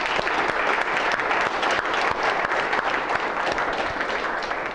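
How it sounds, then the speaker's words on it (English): Students give a lecturer a round of applause at an exam review class, a thick continuous clatter of many hands clapping, loud and even throughout. "let's give him a round of applause"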